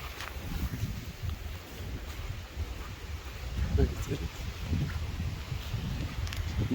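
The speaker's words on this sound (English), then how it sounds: "Y'all can hear that wind." Wind blowing outdoors during a windstorm, heard as a soft, low buffeting rumble of gusts against the microphone that swells and fades and strengthens toward the end.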